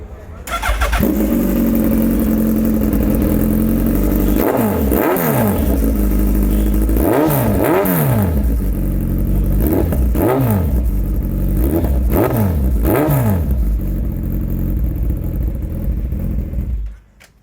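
A Suzuki Hayabusa with a full-system M4 exhaust idles with a deep rumble, then revs hard in a series of sharp, snarling blips before cutting off.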